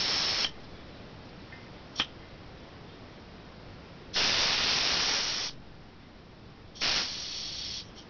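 A 1 lb propane bottle being purged releases bursts of hissing gas: a short burst at the start, a sharp click, then a longer steady hiss and a final shorter one, close and fairly loud with quiet gaps between.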